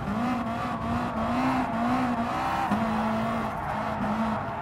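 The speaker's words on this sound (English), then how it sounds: "These tires are complaining." Worn race car tires squealing under load in Gran Turismo Sport, a steady sustained tonal screech wavering in pitch over a continuous engine drone, loud and close with a brief break midway.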